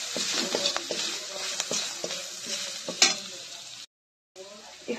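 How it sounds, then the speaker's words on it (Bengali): Ground spices with turmeric, salt and a homemade roasted spice blend sizzle in a pan for a pungent masala, steady frying hiss broken by repeated scraping stirs, close and fairly loud, with a brief silent gap near the end. "এরপর মশলাটা ভালোভাবে কষিয়ে নেব"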